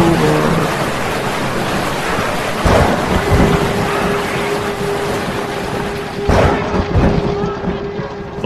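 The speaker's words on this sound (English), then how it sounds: "It's just a little storm." Heavy thunderstorm with a steady loud downpour of rain, broken by two sharp, close thunderclaps with rolling rumbles, one near the three-second mark and another toward the end.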